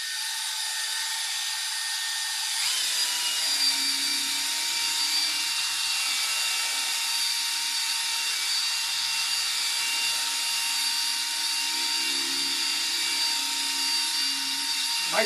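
A pad sander buffs and sands a painted surface, its motor a continuous high whine that steps up in intensity early on and then runs steadily at moderate level, with low intermittent rumbles beneath and no speech.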